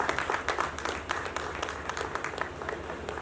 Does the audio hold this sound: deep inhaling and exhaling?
no